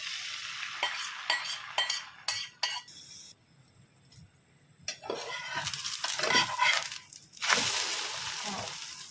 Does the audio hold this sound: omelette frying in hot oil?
yes